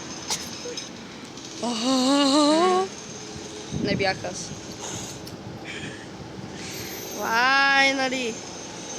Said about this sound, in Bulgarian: Базелски трамвай.